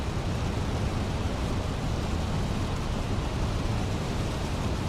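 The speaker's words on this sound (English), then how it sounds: "I can hear the rain beating on the windshield" Rain drums steadily on an aircraft windshield during an approach into Miami, a dense, constant wash of noise with no pauses and no voices.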